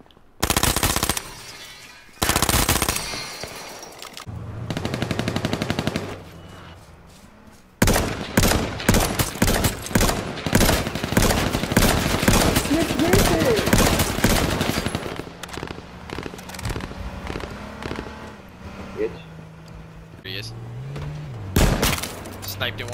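Rapid bursts of gunfire from the battle-royale game H1Z1 ring out loud and close, with sharp repeated shots clustered through the middle, sniper rifle fire among them, while players talk over the action.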